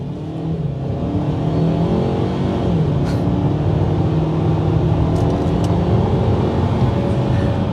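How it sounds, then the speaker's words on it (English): A 2025 Ford Maverick Lobo pickup truck engine, 250 horsepower, hums steadily and climbs in pitch as it accelerates, fairly loud and close, with no talking. "I half released the brake and the engine came on, not much noise from it"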